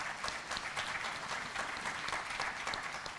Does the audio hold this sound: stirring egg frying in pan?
no